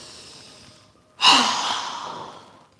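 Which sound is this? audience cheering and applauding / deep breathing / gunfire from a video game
deep breathing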